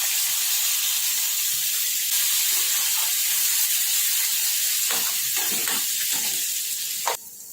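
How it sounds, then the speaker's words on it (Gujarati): Cumin, asafoetida and green chillies frying in hot oil with a steady, loud, hissing sizzle that holds throughout, broken near the end by a few faint clinks and a sharper click. "જીરું તતડી ગયું, થોડી હિંગ એડ કરીશું।"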